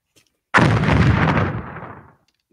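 A loud explosion sound effect in a Star Trek space battle bursts in suddenly after a short silence, then rumbles and slowly fades over about a second and a half, with no voices.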